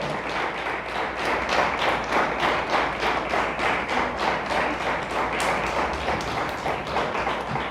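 A church congregation applauds for God, a steady, fast clapping from many hands that keeps an even rhythm throughout, fairly close and full with no voices over it.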